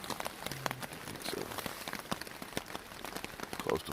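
Morning rain at a campsite near a river trail, pattering steadily on a tent or tarp with scattered sharper drops striking close by, a soft continuous wash with no talking.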